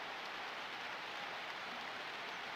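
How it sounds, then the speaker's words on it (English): Steady rain hisses continuously in an NFL 2K1 football video game, a soft, even wash of noise with no voices. "And it's raining again."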